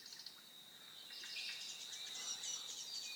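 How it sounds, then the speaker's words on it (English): Recorded bird sound effects play around a model railroad layout, a steady high chirping and trilling chorus with an insect-like buzz that swells slightly partway through, faint and distant with no talking. "can you hear the birds?"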